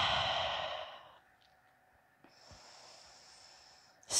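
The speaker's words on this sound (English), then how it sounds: "Slow, steady breathing." Slow, steady breathing during an energizing yoga flow: a long, audible exhale up close, a quieter pause, then soft breaths and a sharp intake at the end.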